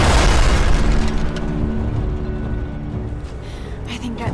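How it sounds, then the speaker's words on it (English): An elevator explodes in Tomb Raider with a loud, deep boom at the outset that rolls into a long, heavy rumble, with faint debris rattling near the end. "Kaboom goes the elevator"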